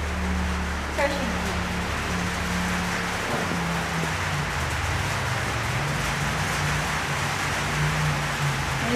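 Steady rain patters and hisses continuously outside a gold mill, with a low background rumble; voices talk briefly underneath.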